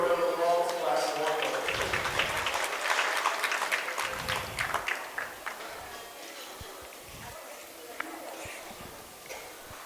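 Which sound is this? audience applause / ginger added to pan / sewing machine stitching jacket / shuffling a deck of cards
audience applause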